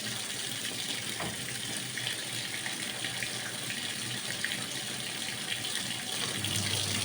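Water gushes steadily from a tap into a washing machine as it fills, a constant rushing hiss that shifts slightly near the end.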